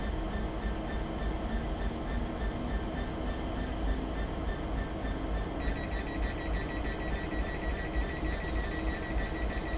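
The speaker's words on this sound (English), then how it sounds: "2 trains coming in at the same time and leaving." Two trains roll in and pull out at the same time in Train Simulator 2015, a Class 66 DRS locomotive on a stock move, giving a loud, continuous rumble of wheels and engines with a high tonal whine joining partway through.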